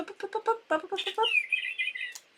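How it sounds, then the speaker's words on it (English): A bird clock chimes its hour with a recorded bird call: a quick run of chirpy notes, then a sustained whistled trill, bright and close indoors. "that's the clock, the bird clock"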